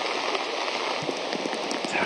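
Steady rain falls on an outdoor golf course during a professional tournament round, a dense, even hiss of drops with faint scattered patters, continuous and fairly close across the whole moment.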